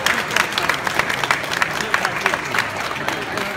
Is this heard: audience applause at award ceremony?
yes